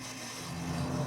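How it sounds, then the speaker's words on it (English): A tool cuts a notch into a 1/16 inch thick metal piece for a mini fire spit, giving a short, steady rasping grind that builds slightly in strength, with no voices. "So we just basically have to cut a notch down the middle basically of every one of these 4 pieces here."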